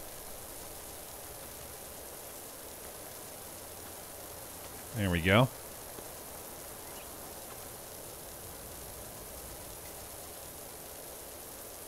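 Pressure washer spraying through a wide nozzle in the video game PowerWash Simulator, a steady, even hiss running the whole time, with someone speaking a brief phrase midway.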